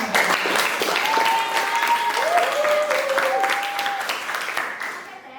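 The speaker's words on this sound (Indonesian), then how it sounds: "Bisa beri tepuk tangan." A crowd claps enthusiastically at a talk show, sustained applause that holds steady for several seconds before gradually tapering off.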